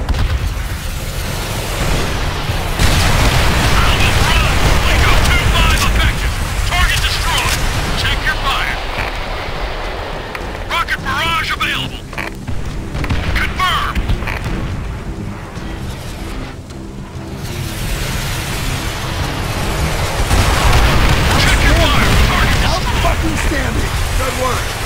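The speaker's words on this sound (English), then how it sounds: "rocket strike! Now!" Rocket strike explosions in Call of Duty World at War, booming blasts and rumbling aftermath rolling over a battlefield, with shouting voices and wind-like noise mixed in.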